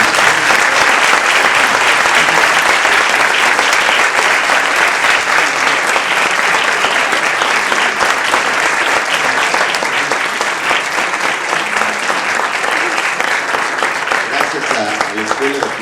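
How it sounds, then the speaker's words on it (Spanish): A lecture audience at a university architecture school gives loud, sustained applause, a thick, even roar of many hands clapping close by that holds steady for the whole stretch and eases slightly near the end. "Pues con esto yo le agradezco a John, vamos a darle un aplauso, vamos a agradecerle."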